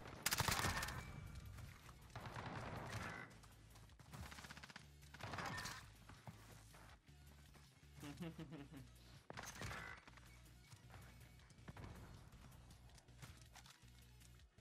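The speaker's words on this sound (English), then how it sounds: "Wait, was someone just shooting at me?" Video game gunfire in a Search and Destroy match, several separate bursts of rapid shots spread across the clip with quieter gaps between them, with a player talking in between.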